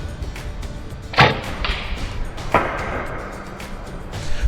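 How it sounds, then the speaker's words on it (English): Arrow fired at a deer during a bowhunt, striking a tree limb and then the deer: two sharp impact thuds about 1.3 seconds apart over steady outdoor background noise, with no talking. "There's actually two impact sounds, one as it hits the limb and the other as it impacts the deer."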